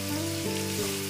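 A paste of onion, ginger and garlic frying in a pan, a continuous loud close sizzle with a steady hum beneath it, no talking.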